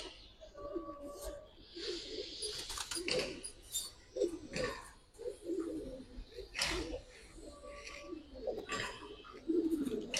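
Flying pigeons coo repeatedly in soft, rolling calls, fairly close but quiet, recurring throughout with brief rustles, while people talk now and then.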